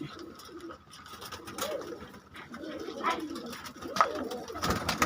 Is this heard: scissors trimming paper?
no